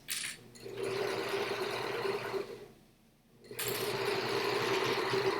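A sewing machine stitches the second side of a fabric bag in two steady runs, broken by a short pause near the middle, with a brief burst of hand handling at the start and again at the restart.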